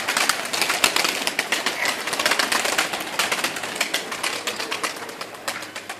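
Iraqi Azraq pigeons, a pure breed, fill the space with a dense, continuous flutter of wings and scratchy activity, steady and fairly close with no talk.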